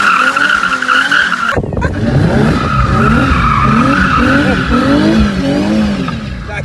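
Tires squeal and skid as a Nissan 350Z death kart drifts, a loud, sustained screech with the engine revving and falling underneath, following a sharp burst of sound.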